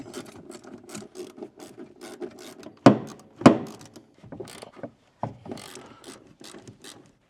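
A ratchet clicks in quick close bursts while removing the bolts from the steering column plate of a stock Chevrolet squarebody column, with two louder metallic clanks partway through.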